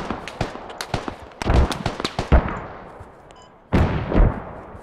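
Gunshots in the military shooter Squad: a run of sharp single cracks with echoing tails, some near and some farther off, then a heavy boom that rolls away.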